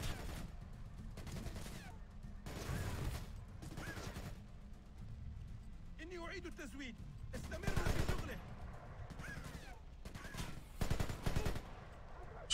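Bursts of automatic gunfire from an enemy in the Splinter Cell Conviction video game, several rapid volleys repeating every second or two, with a short spoken remark in between.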